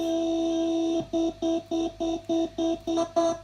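A sustained synthetic vocal "ooh" sample from a track holds for a second, then repeats as about nine short, evenly spaced chopped stabs in a steady rhythm.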